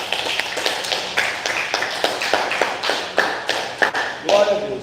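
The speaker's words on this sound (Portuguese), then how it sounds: "Uma salva de palmas ao Senhor." Church congregation clapping in praise, a run of uneven taps and claps building over several seconds, mid-distance, with a voice speaking over the applause.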